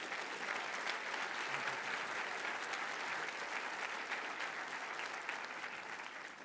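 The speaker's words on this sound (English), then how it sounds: "Let's give him another round of applause." Graduation audience at the Cushing Academy commencement gives the valedictorian a warm round of applause, dense and steady clapping from a large crowd that tapers slightly at the close.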